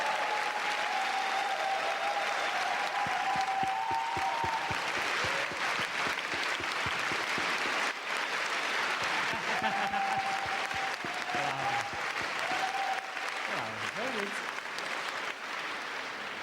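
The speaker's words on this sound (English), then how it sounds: "You don't talk, you get more applause." Sustained audience applause at a dance lecture fills the whole stretch, a dense steady clatter of many hands with a few brief voices and tones poking through near the end.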